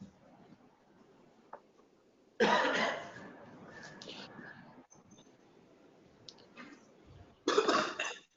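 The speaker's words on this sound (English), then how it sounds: "I have got serious cough problem" A man in a courtroom coughs hard in two loud bursts several seconds apart, with softer throat noises and faint rustling in the quiet gaps between them.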